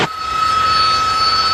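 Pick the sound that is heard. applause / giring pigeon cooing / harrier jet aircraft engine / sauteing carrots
harrier jet aircraft engine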